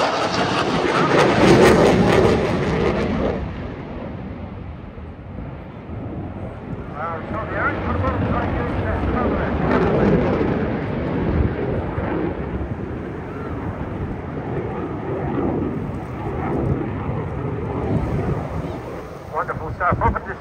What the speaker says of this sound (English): Repositioning the jet now to give you a superb top-side view.